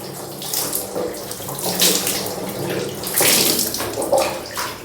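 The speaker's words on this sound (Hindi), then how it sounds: "अब 3 बार सर से पानी बहाना है।" Water poured over the head during a ritual bath, a steady close splashing gush that swells and surges in waves, with no voices.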